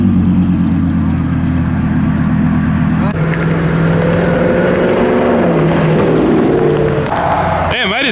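An Audi R8 with a full body kit and satin silver finish rolls past at a car meet, its engine note rising and falling loudly against constant crowd and traffic noise. Nearby people talk over it.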